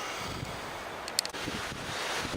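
Wind rushes across the microphone in a steady outdoor hiss, with a faint high click in the middle and no speech.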